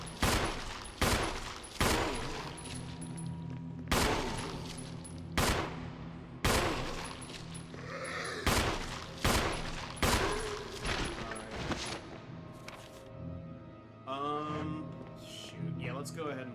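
Repeated gunshots from the video game Resident Evil (2002), loud sharp blasts at irregular intervals across the clip, some in quick pairs, with a player talking between and over the shots.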